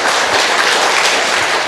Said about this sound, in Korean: 다시 한번 이분들에게 우리 뜨거운 박수 좀 부탁드리겠습니다